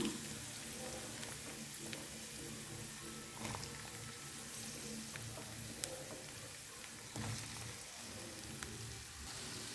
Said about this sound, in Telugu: ఇప్పుడు మనమైతే కట్ చేసుకొని పెట్టుకున్న పొటాటో అలాగే క్యారెట్ ముక్కలను వేసుకుందాం